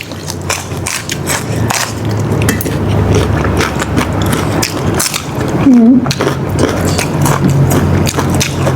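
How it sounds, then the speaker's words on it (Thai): Crunchy vegetables are chewed alongside a spicy Thai papaya salad with rice noodles, meatballs and fermented fish sauce, giving close, steady crisp bites and munching throughout. "ผักก็กรอบมาก"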